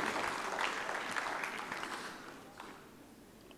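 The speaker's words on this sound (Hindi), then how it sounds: "मेरे ख्याल से थोड़ा सा तालियों का हक बनता है" Audience applause at a Hindi-Urdu literary gathering, a steady wash of clapping from a crowd that gradually thins and fades over a few seconds.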